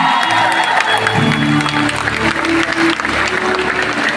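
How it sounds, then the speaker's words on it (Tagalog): A crowd applauds and cheers loudly for the mayor at a political gathering, dense steady clapping with shouts mixed in, sustained at full volume throughout. "Palakpak naman po kayo dyan!"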